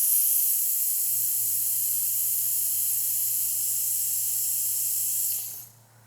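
An EVEREO multi-day vacuum pump hums steadily as it draws air from a container lid through its valve, a constant broadband hiss over a low motor drone lasting several seconds before cutting off abruptly at the end.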